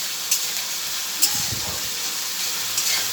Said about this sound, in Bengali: আদা, রসুন, কাঁচা লঙ্কা একসঙ্গে বাটা দিয়ে দেবো। আমি আগে লেড়ে দেবো। ভালো করে মশলাটা কষাবেন,